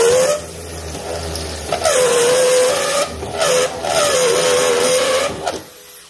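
A step drill bit boring through a gold rat sluice box: a loud whining drill cutting in bursts, with its pitch rising and falling as it bites, briefly easing off between passes and stopping near the end.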